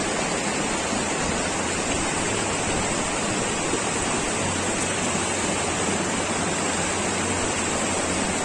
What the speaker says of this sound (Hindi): ऊपर से मतलब इतना शोर था पानी का वहाँ पर